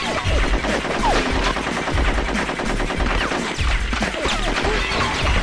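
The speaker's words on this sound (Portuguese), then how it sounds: "tá dando tiro na Barry aqui" Dense, loud gunfire in the N64 game Conker's Bad Fur Day, rapid machine-gun bursts with crashes and impacts running continuously without pause.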